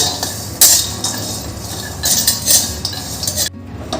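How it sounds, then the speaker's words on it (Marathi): Cashews and almonds dry-roasting in a kadhai for urad dal ladoo, stirred with a metal spoon that scrapes and clatters against the pan in irregular bursts, close and fairly loud, with no one talking. "काजू बदाम आपण छान आता दोन ते तीन मिनिटाचे छान भाजून घेऊ"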